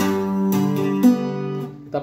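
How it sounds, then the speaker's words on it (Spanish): A full mahogany bajo quinto with a mahogany top being played: several strummed chords ringing out close and bright, strokes spaced about half a second apart, then a final lighter strum, with no voices. "Este es el sonido de este bajo."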